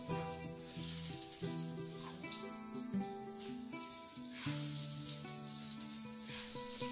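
Solid fat melts and sizzles in a pan with olive oil, a quiet steady frying hiss that sits under louder background music. No one speaks.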